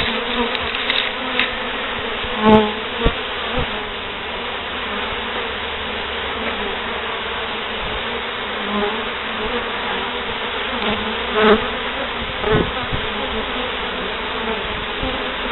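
A honeybee swarm hums continuously at close range at the hive, a dense steady buzz with occasional louder bees passing near.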